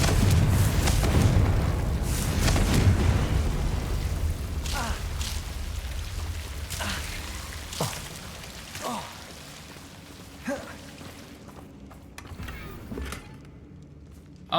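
Confringo explosive spell blasting in Hogwarts Legacy, a loud booming rumble at the start that fades, followed by several sharper impact bursts and debris crackles at a medium distance.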